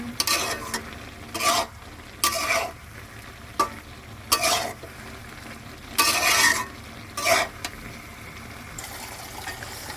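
A curry base being stir-fried in a pan before fish is added, with repeated bursts of spoon scraping and sizzling separated by quieter stretches of low bubbling, no speech.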